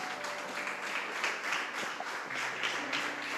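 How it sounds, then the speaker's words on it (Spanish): A church congregation applauds for the Lord after a sermon, with steady, dense clapping from many people over several seconds, heard faintly and at a distance. "un aplauso más grande para el Señor"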